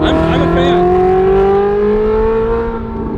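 A Ferrari 458 with a Kline Inconel exhaust holds a loud, steady, high-pitched rev up close, with a rich, layered tone that rises slightly and stays strong for several seconds before easing off a little.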